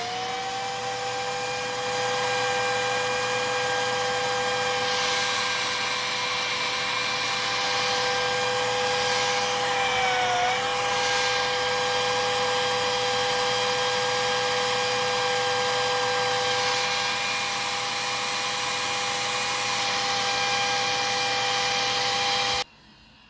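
Hoover S3341 Constellation vacuum cleaner running through an airflow test, a loud, steady close-up motor whine with sustained tonal hum and a slight pitch dip midway, cutting off abruptly at the end.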